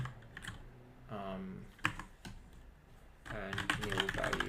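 Computer keyboard typing, soft irregular key taps mixed with someone talking over them at close range, in a quiet indoor setting.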